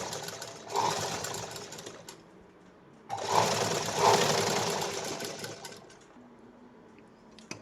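A sewing machine stitches a blouse lining in two close bursts of rapid, buzzing mechanical stitching separated by a short pause, then slows and trails off at the end.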